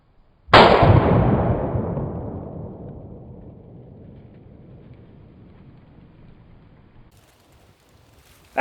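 A single loud .308 rifle shot fired at a steel target outdoors, a sharp sudden crack followed by a long rolling echo that decays slowly over several seconds into near silence.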